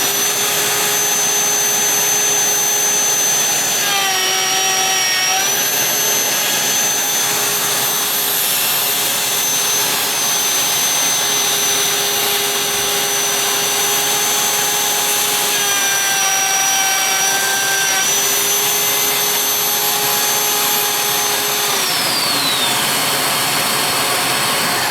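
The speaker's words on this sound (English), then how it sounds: "Let's turn the vacuum off" Remote-controlled vacuum cleaner running continuously, a loud close whine with its pitch shifting a few times as the motor speed changes.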